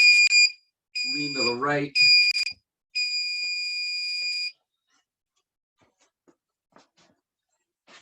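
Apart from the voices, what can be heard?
workout timer buzzing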